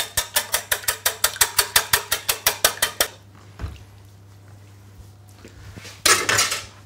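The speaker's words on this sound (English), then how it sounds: "just use a whisk and just beat those up" Eggs are beaten with a whisk in a bowl: about fifteen rapid, evenly spaced metallic clinks against the bowl, then a pause with a few faint knocks and a final scraping burst.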